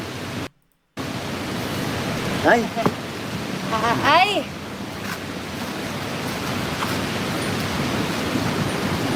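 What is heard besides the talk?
typhoon wind and sea waves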